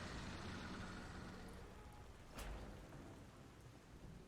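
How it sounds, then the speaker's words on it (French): Heavy rain pours steadily in the video game Lies of P, a dense, continuous wash of drops with a brief crackle partway through. No voices are heard over it. "Il y a quand même beaucoup de pluie."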